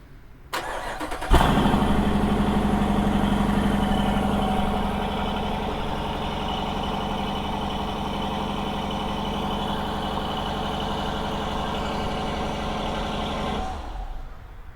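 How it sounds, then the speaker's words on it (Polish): A 2022 Dodge Durango R/T with a 5.7-litre HEMI V8 cranks and fires with a sharp burst, then settles into a steady, loud, metallic idle that runs on evenly before cutting off near the end. "Dźwięk V8 nie do podrobienia. Fajny, metaliczny dźwięk w Durango."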